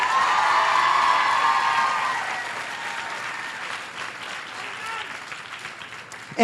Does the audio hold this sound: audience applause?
yes